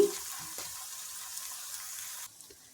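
Cumin seeds frying in hot oil and ghee give a soft, steady sizzle with faint crackles that drops away near the end.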